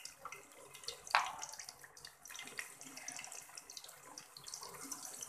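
Pieces of vegetarian mock fish fry in hot oil, giving a faint, steady hiss with a brief sharper crackle near the start, heard alone at low level.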